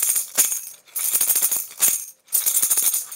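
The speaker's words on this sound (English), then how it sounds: "I hear shake, shake, hit. That is the tambourine." A tambourine is shaken and struck: jingly metallic bursts repeat in a shake-shake-hit pattern, close and fairly loud, with short gaps between the groups.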